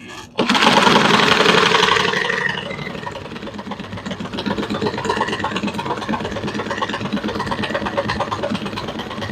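A sewing machine stitches isinglass plastic porch panels with a fast, steady mechanical whir that starts loud and then settles into an even running rhythm.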